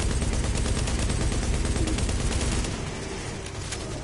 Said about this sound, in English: I'm gonna try shooting from a distance